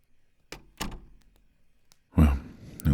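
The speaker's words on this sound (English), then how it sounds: "Shut the door, will you?" An indoor door is pushed shut with a few soft thunks and a firmer closing thump near the end, heard close up in a quiet room with no talking.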